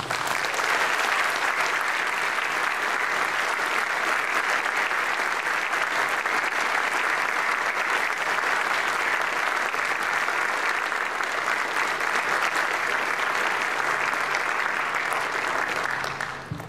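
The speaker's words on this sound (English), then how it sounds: "Please join me in a round of applause for the Cadre of the Quarter." A large audience at a military music school graduation concert gives long, sustained applause, a dense, even wash of clapping that holds steady for about seventeen seconds before tapering off at the very end.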